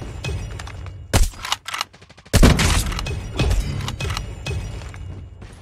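Loud video-game gunfire from a Call of Duty-style match with the Tundra sniper rifle, sharp reports and bursts with shattering crashes, separated by a short quieter gap.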